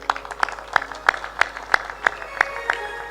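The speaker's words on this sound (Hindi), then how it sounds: "तालियां जोर बजाया करो" Audience clapping in unison at a Hindu devotional gathering, about ten sharp claps in a steady rhythm, fairly close, over a faint sustained musical drone.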